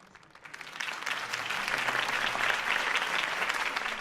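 A crowd at a mayoral campaign rally in a Batman video game bursts into applause that swells quickly and keeps going as a steady, dense clapping roar.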